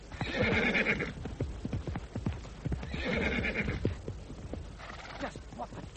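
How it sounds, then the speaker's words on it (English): A horse neighs loudly in a radio drama while hooves clatter in a quick, uneven clip-clop, with the whinnies rising in bursts over the hoofbeats. "Rein in that horse!"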